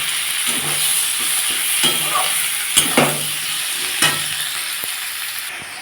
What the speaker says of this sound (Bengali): দিয়ে জিরে গুঁড়ো এগুলো দিয়ে আমি তরকারিটা ভালো করে কষে নেব